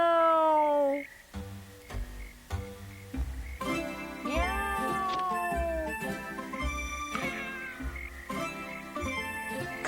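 In an animated Tom Sawyer episode, a voice imitates a cat with drawn-out, wavering meows that rise and bend downward, heard close over light background music.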